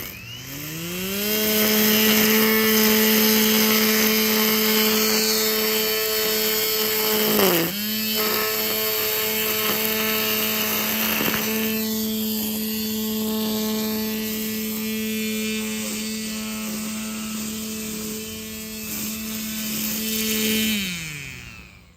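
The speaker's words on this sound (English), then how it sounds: "Go ahead and weed eat all this with my Makita 36 volt. And I got a little metal blade on there." A Makita 36-volt string trimmer fitted with a small metal blade cuts weeds, its steady high motor whine running loud and close for about twenty seconds, with a brief dip in speed midway as it bites into growth.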